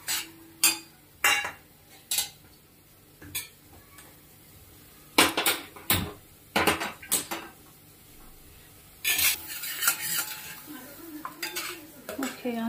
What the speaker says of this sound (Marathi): आणि हे सगळं आता तेल सुट्टेपर्यंत परतून घ्यायचंय छानपैकी